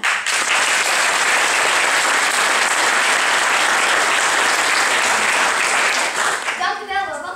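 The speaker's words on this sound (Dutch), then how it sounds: "Dat applaus klinkt al heel aardig hoor, maar we oefenen het nog een keer." A large crowd claps loudly and continuously for several seconds, then the applause fades and a voice begins speaking near the end.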